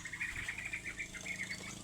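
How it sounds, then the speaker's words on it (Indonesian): A canary with a rough ngeriwi-style song, bred from DS x loper parents, sings a steady run of quick, repeated chirping trills at moderate volume over a low background hum. "Dan untuk kenari ngeriwi kasar"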